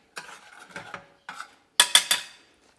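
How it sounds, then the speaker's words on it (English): A spoon clinks and scrapes around a pan as a fish sauce is stirred, with a few soft strokes followed by three louder, bright metallic knocks near the end. "Take a new spoon. I'm gonna stir the whole lot"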